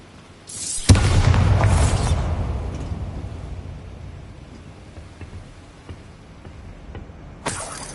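A Bombarda spell explosion in Hogwarts Legacy goes off as a loud, heavy boom with a crackling rumble that slowly fades over several seconds, followed later by a brief second burst.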